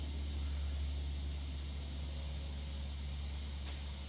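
Liquid propane sprays from the valve of a composite Viking non-metallic cylinder while it refills a Flame King refillable tank, making a steady, loud, unbroken hiss that lasts throughout.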